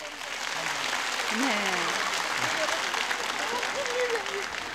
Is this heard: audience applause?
yes